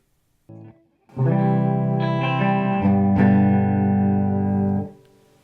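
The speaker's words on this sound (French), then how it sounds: "Avec en plus une reverb du HD500 dans la boucle." An electric guitar plays a short note, then a long sustained chord that rings out with a spacious reverb tail fading away, the reverb from a Line 6 HD500X in the amp's effects loop.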